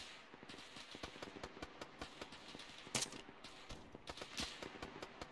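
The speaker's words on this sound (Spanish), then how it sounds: "Una ametralladora, cuidadito." Machine gun fire in the video game Arma 3 crackles in rapid, uneven bursts of sharp shots, with one louder crack partway through and no talking.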